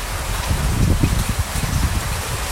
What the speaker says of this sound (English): It's raining. Pretty bad.